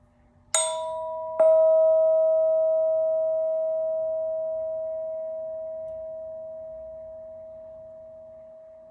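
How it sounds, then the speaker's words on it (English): A meditation bell is struck twice in quick succession, then its clear tone hums on, slowly fading in a quiet room. "I'll start by focusing us on the sound of the bell."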